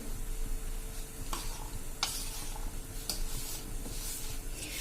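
Spoon stirring green corn kernels coated with a tablespoon of rice flour for a fried snack, giving soft steady scraping and rustling with a few sharper clinks against the bowl, fairly quiet and alone.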